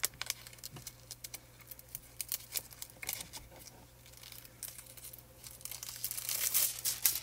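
A sheet of Foil Quill toner foil handled up close, crinkling and crackling in short irregular bursts that swell into a denser, louder rustle toward the end.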